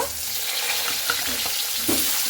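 Potatoes fry in hot oil tempered with five-spice for a spicy potato chaat, giving a loud, steady sizzle with scattered crackles and pops that swell near the end.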